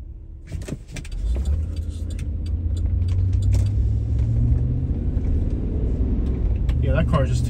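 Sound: car driving by at night

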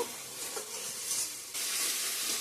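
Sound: fried cauliflower and potatoes sizzling in oil

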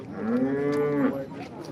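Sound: cows mooing at cattle market

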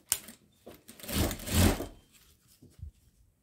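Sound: sewing machine stitching a patchwork rug

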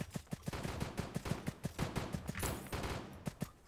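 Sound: snowball launcher firing in Roblox Flag Wars video game

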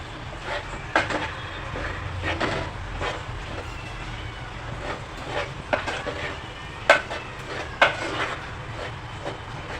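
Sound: stirring puran filling in a pot on the gas stove

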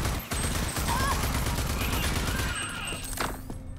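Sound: gunfire in the video game Rage 2

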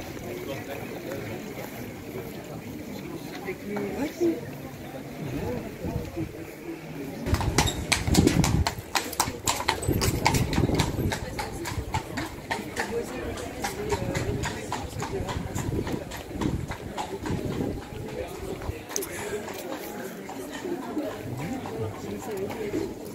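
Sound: horses clip-clopping in Bruges

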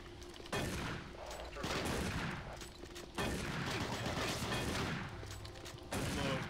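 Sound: machine gunner enemy firing, from video game Doom 3 BFG Edition

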